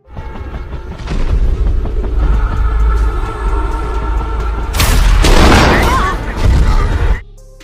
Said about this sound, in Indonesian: Aksi baku tembak pun tak terhindarkan.